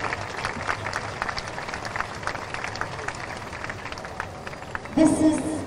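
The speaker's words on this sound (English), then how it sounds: "So let's give them all a very, very big round of applause" A large audience gives a long, steady round of applause at a gathering of young leaders on the banks of the Ganga, continuous clapping that swells briefly near the end.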